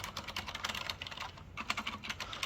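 Rapid, continuous typing on a Leopold NP900RBT mechanical keyboard with silent red switches, soft muted keystrokes close by, a steady stream of dull clicks with no talking.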